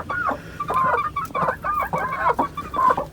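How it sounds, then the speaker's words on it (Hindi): Chickens cluck in short repeated bursts close by, a steady run of calls against a faint background hum. "और एक मुर्गा वो बैठा दोस्तों।"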